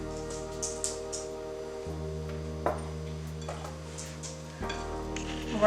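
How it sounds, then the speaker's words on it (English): Brownie batter with salt, baking powder and cocoa powder being stirred together in a bowl, with soft scraping and light clinks of the utensil over a steady background hum. "We're going to stir this together"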